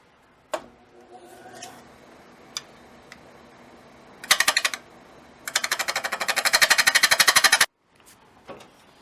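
Lathe wood turning as a hammer handle is cut: scattered sharp taps, then a dense rapid chattering burst of the gouge on spinning wood lasting a couple of seconds before stopping abruptly.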